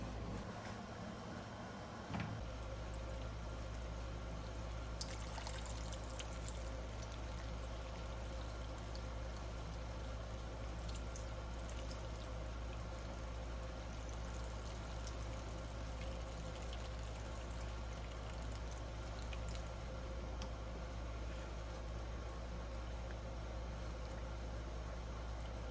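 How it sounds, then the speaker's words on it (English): Water pours steadily over pokeweed leaves set to soak, a constant close rushing flow that starts abruptly and runs without a break, with no talk. "Put some water in there, let that soak."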